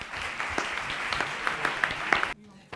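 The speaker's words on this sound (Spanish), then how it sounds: "yo creo que se merece un aplauso" Applause from the audience at a public talk on the Parliament of Extremadura in Llerena, a steady crowd patter with a few louder claps, breaking off abruptly near the end into quieter room sound.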